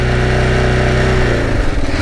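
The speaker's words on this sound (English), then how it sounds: "So you hear the engine revving up." A Kawasaki KLR motorcycle engine revs steadily with the clutch pulled in, a loud, close, sustained drone that wavers and roughens near the end.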